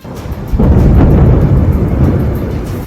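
A loud, deep, rumbling explosion in Ukraine during an air raid alert swells up suddenly and rolls on, heavy and booming, echoing across open space.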